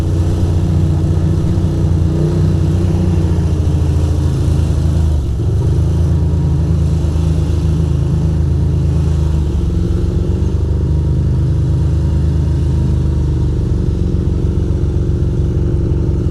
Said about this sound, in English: People are like, why is he revving his bike?